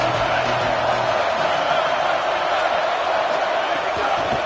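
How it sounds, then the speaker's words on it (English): Steady, dense roar of a packed stadium crowd at an Iowa football game, loud and unbroken, with no distinct cheers standing out. "This crowd trying to make life miserable for this offense"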